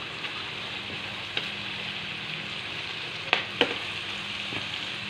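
Chicken shawarma meat frying in a pan with soy sauce and chili sauce, giving a steady, close sizzle throughout with a few brief clinks of stirring.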